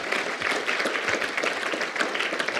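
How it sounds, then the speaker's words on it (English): Audience applause after a talk at an SEO masterclass, a continuous, fairly loud wash of many hands clapping that holds steady throughout. "And applause."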